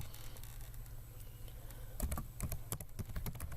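Quick bursts of keystrokes on a computer keyboard as a file name is typed, a cluster of sharp clicks starting partway through over a steady low hum.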